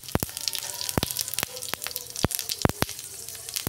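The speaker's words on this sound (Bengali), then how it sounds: "ওই তেলের মধ্যে দিয়ে দিচ্ছি 5 ফোড়ন" Five-spice seeds crackle and sizzle in the small amount of oil left over from frying fish, giving a busy spatter of sharp pops over a low hiss, close and moderately loud.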